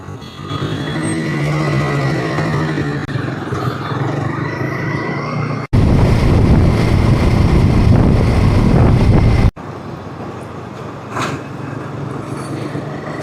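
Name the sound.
motorcycle riding on the road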